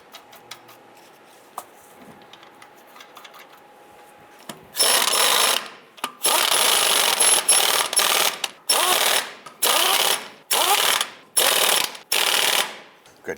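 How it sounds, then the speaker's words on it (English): Ratchet snugging down rear wheel lug nuts on a 1995-2001 Ford Explorer, a run of loud, close clicking bursts in quick succession, each swing ending in a short pause before the next. "Once all of these are on, we're going to go ahead and snug them down."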